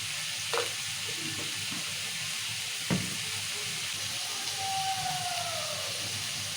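Onions frying in a pan give a soft, steady sizzle with a couple of brief utensil knocks and a faint whistle-like tone drifting through the background, and no one speaks.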